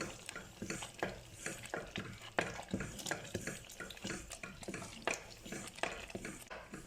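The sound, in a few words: stirring millet flour kali mixture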